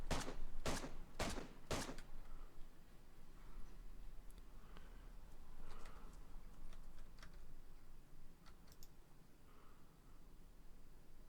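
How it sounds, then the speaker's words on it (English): Gunfire in the DayZ video game on a Namalsk server: a quick burst of three or four sharp, loud shots at the start, followed by quieter scattered clicks and distant pops over a low ambient hum. "Somebody was definitely firing at me then"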